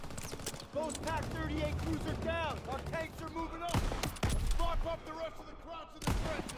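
Gunfire bursts crack out in a Call of Duty WW2 firefight, a few sharp shots spaced among background game sound and voices.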